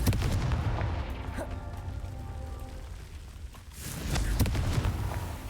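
Confringo explosion spell in the Hogwarts Legacy video game, heard as a booming blast with crackling debris, a quieter lull with a faint tonal hum, then a second loud, rumbling burst.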